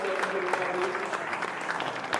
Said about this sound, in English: So a big round of applause for our colleagues.